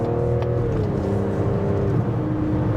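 A 2024 Mazda CX-90 Preferred Plus SUV accelerating in sport mode, its engine a steady, loud droning hum with a pitch that slides slightly as it picks up speed, heard from inside the cabin with no one speaking.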